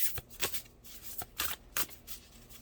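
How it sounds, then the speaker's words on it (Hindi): Tarot cards being shuffled in the hands: a few quick papery riffles and flicks, close and fairly quiet, with no talking. "लास्ट कार्ड निकालना है।"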